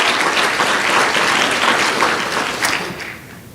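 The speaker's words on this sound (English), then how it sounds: "Please give them a round of applause." A round of applause from a banquet audience at a scholarship dinner, a full steady clapping from a sizeable crowd that gradually thins and fades near the end.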